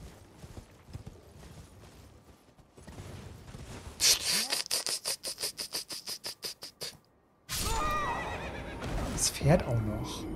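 A horse neighs amid Elden Ring sound effects, with a rapid rhythmic series of pulses and talking voices nearby.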